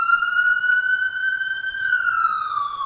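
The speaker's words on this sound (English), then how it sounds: "Ambulance and a fire truck going through the neighborhood." Ambulance and fire truck sirens passing through a residential neighborhood, one steady wailing tone that holds loud and close, then slowly drops in pitch as the vehicles move away, with no talking over it.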